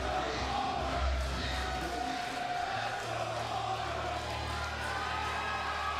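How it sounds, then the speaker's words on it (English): An arena crowd at a CFFC 112 MMA event chants for a fighter named Palmer, a loud massed roar of voices with rhythmic swells, heard from a distance. "the crowd, it's unbelievable. Chanting, "Let's go, Palmer.""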